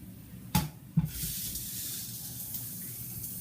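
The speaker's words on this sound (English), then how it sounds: "The hot oil is going to get poured over the mixed spices, and there will be a reaction." Hot oil poured over mixed spices, with two sharp splashes followed by a soft, steady sizzling hiss that fades gradually; no talk.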